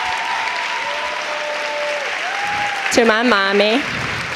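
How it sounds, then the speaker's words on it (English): A fashion show audience at New York Fashion Week applauds in a steady, dense wash of clapping throughout, with a short spoken line and tonal sounds briefly heard over it. "would you please stand for a round of applause?"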